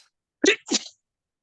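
One close, sharp sneeze in two quick bursts, followed by silence.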